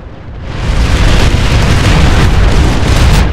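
Tank gunfire and explosions in the Planetside 2 video game, a loud, continuous roaring blast that swells after a brief onset and stays dense and booming throughout, with no break.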